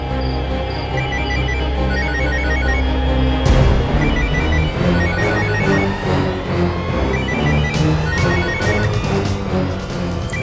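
A mobile phone ringtone plays loud and continuous, a repeating electronic melody that fills the scene over a dense backing.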